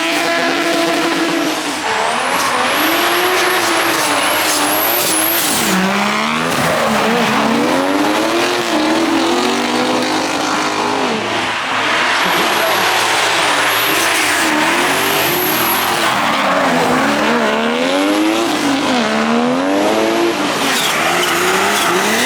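Race cars drifting on a nearly dry track, engines roaring loud and close with rising and falling revs while tires squeal in long wavering screeches, continuous for the whole stretch.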